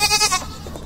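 A donkey on a farm adventure park brays close and loud in a short burst of two or three harsh, rasping pulses that fade into quieter background noise, with no talking.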